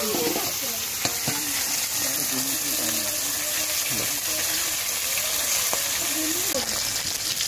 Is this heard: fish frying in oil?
yes